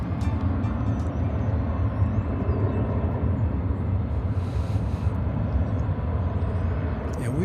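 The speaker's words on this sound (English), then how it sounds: "It's an Airbus A320." A Delta Airbus A320 airliner at DFW Airport gives off a constant broadband roar, with a steady low rumble that neither rises nor fades.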